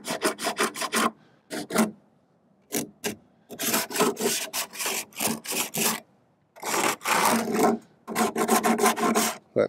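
A hand rasp filing wood on a vintage 1980s Williams Joust arcade cabinet, rough scraping strokes in quick bursts with short pauses between, close up and loud with no talking.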